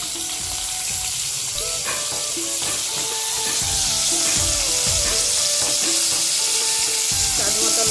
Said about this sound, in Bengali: এই তেলে ভেজে নিব টমেটো।